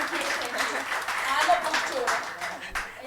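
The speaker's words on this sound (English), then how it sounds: "Can we give them a round of applause?" An audience at a poetry session during a literature and art festival in Bhopal applauds its speakers, a brief, moderately loud burst of scattered clapping with voices talking through it.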